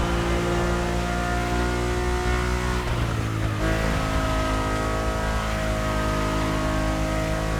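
Ferrari race car engine heard from inside the cockpit in The Crew Motorfest, a loud, steady high-pitched roar with a brief shift in pitch midway, carried throughout.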